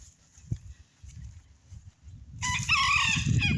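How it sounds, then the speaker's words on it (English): A rooster crows loudly and close by at a farm with small chickens around, the call rising suddenly after a quieter stretch of low background rumble and scattered clucks. "Oh, that's a rooster."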